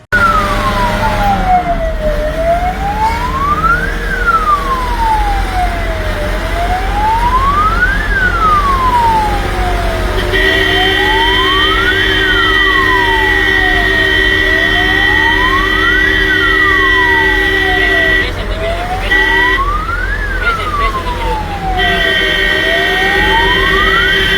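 An ambulance siren wails loudly and steadily on a road, a rising and falling sweep repeating every few seconds with a second high-pitched two-tone siren layered in, alongside traffic rumble.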